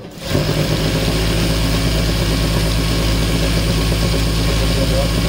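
A sewing machine stitching a petticoat frill starts up after a brief pause and runs at a steady, loud motorized whir with a buzzing hum and no breaks.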